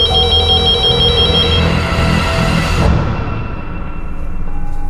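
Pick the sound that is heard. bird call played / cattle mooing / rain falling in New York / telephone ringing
telephone ringing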